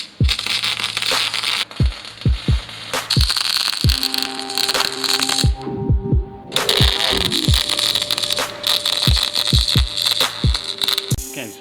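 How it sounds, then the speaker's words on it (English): Welding on the underside of a steel staircase frame: loud, close crackling arc bursts that run steadily, pause briefly, then resume, with sharp metallic knocks scattered throughout. "I'm going to flip this over and weld the same on the underside"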